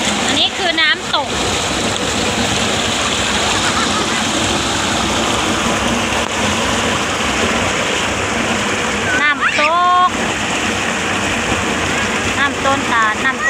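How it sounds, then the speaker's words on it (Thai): A waterfall along a rural stream pours in a constant, dense rushing hiss, with children's voices and splashing play breaking through now and then. "อันนี้คือน้ำตก"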